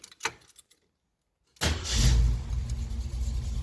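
A couple of clicks, then a brief silence before a Jeep CJ-7's AMC 304 V8 engine turns over and catches, settling into a loud, rumbling idle.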